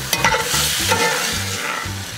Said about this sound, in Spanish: añadimos los garbanzos y los sofreímos todo un poco